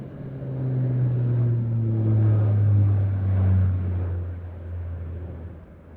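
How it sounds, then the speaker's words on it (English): A Royal Danish Air Force C-130J-30 Super Hercules passes at an airshow with a deep, steady propeller drone that swells and slowly fades over six seconds, no talk over it. "More Royal Danish Air Force heavy metal, this is the C-130J-30 Super Hercules."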